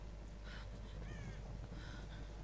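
A crow-like bird caws a few times amid the stormy ambient soundscape of the video game Tomb Raider (2013), harsh calls rising over steady wind and rumble.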